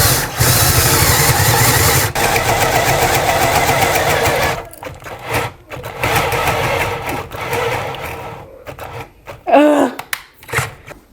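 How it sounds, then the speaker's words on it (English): A cordless power drill bores a 1/2 inch hole during a 1990s kitchen makeover, running in a loud steady whir for several seconds, then stopping and restarting in short bursts, close up with no talking. "So I'm gonna drill the 1/2 inch hole right here."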